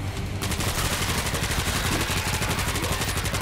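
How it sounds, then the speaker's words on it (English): Rapid bursts of gunfire crackle continuously over a dense, loud backdrop of World War Z game noise, with no pauses across the whole stretch. "We're hearing gunfire from the river."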